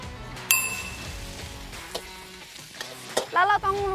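Wild boar meat stir-fried in a little oil for southern Thai khua kling, a steady close sizzle with a spatula scraping and clinking against the pan, plus a few sharp metallic rings.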